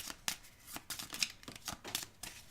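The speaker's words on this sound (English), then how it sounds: "And then you just shuffle his deck." Deck of cards for the 5 Minute Dungeon card game being shuffled by hand, a quick series of crisp riffling bursts repeating at a steady pace, close and fairly quiet.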